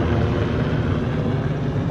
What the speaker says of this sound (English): It's a Sikorsky. We got helicopters flying overhead of us right